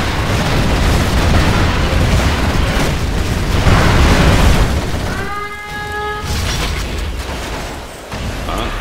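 Heavy booming quad cannon fire rumbles continuously in Command & Conquer ShockWave, dense low blasts followed by a brief rising electronic tone.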